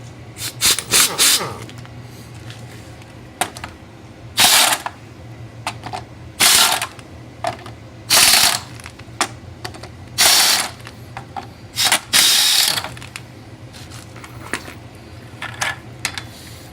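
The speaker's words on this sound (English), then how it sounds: "taking off the hubcap with the impact wrench" An air impact wrench rattles against a hubcap in a series of short, loud bursts, about a dozen quick hammering blasts separated by brief pauses.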